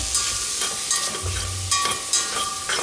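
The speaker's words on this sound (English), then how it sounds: "Get these nice and sauteed." Zucchini sautes in an already warm pan, giving a steady close sizzle with repeated stirring scrapes and bumps throughout.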